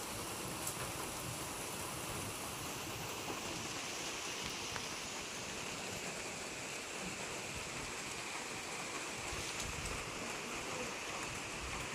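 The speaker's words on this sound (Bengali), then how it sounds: "বেশ রাত্রে থেকে বৃষ্টি, অনেক বৃষ্টি, আজ বৃষ্টি প্রভাবটি আছে" Steady heavy rain falling through the night, a dense even hiss that carries on unbroken and alone throughout.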